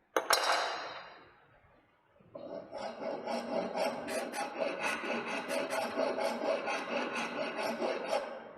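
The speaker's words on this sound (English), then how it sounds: "we will be leveling the next member properly with the help of rasp files" A rasp file levels a wooden member: one rough scraping stroke fades out, then after a short pause a run of quick, rhythmic, close rasping strokes continues to the end.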